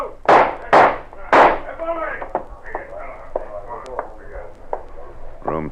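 Three sharp gunshots in a radio drama, sounding in quick succession near the start, loud and close, then voices in a tense scene.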